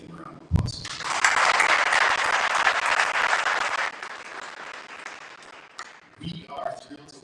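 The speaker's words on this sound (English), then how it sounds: "So please give them a round of applause." Audience applause breaks out at a Pittsburgh Light-Up Night press conference, a loud burst of clapping that holds for a few seconds before tapering off, followed by a voice and some shuffling.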